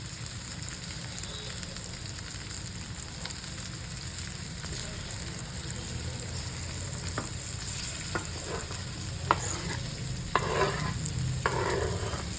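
Chopped ridge gourd frying in a spiced pan for dodka bhaji makes a constant hiss of hot oil, with scattered stirring scrapes and taps growing more frequent toward the end.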